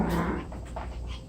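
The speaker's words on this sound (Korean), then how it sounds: "지금 우리 강아지들 4마리를 한꺼번에 그냥 꺼내서 이제 꺼내놓고 놀게 해주고 있는데" Four young puppies play together indoors, panting and letting out brief whimpers and small yips at close range, with no one speaking.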